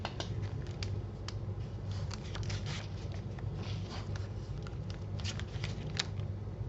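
Sheets of stationery paper from a stationery haul are handled and shuffled, giving a steady stream of close, crisp rustles and soft flicks over a low background hum, with no talking.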